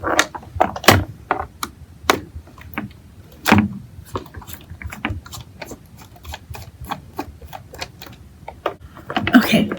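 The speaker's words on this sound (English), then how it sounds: "it looks like we're going to have to take out 1, 2, 3, 4 more screws" Screws being removed from a LeapFrog toy's plastic casing: a series of sharp clicks and ticks at an irregular pace, close and fairly quiet, with a person talking in between.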